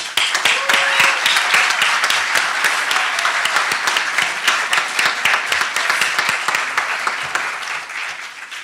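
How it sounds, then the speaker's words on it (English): Sustained, dense applause from a large audience fills a graduation hooding ceremony hall, steady and loud throughout with many overlapping claps, fading slightly at the end. "I want to give a round of applause to those who supported our graduates today."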